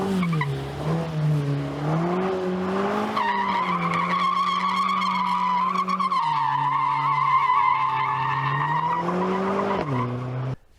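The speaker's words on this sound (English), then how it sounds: "you can even drift with the all-wheel drive car" A 2020 Mercedes-AMG A 45 S all-wheel-drive hot hatch drifting, its tires squealing in a long continuous shriek that rises and falls in pitch with engine note beneath, loud and close, ending abruptly.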